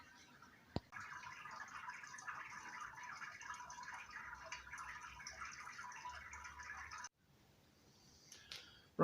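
Liquid trickles and drips steadily while grain is sparged during home brewing of a pale ale, a soft, close, continuous patter that cuts out abruptly near the end before fainter splashes resume.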